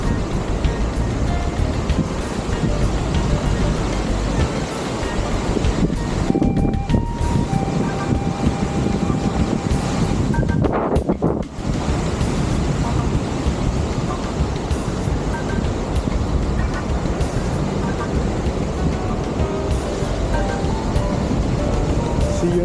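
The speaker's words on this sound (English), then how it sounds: "The wave is coming into the sand." Ocean surf at high tide on Florida's Coquina Beach, big waves washing continuously up onto the sand with a steady loud roar and some wind buffeting the microphone, no voices.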